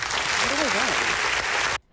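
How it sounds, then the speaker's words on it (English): Applause sound effect played over a Las Vegas radio live stream, a dense wash of clapping with a faint tonal warble underneath, running about two seconds before cutting off abruptly into near silence. "There's a little applause."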